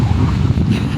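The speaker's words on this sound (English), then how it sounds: "This is how windy it is." Strong wind gusts at the coast on the Isle of Wight and buffets the microphone with a loud, rumbling roar. The roar stays constant through a single second, with no talking.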